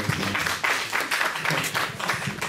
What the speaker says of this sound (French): applaudissez très fort pour notre...